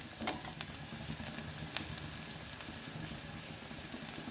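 Onion and green chilli sautéing in a pan for paneer chilli manchurian, a soft steady sizzle with occasional light crackles and faint stirring, fairly quiet and close, no voices.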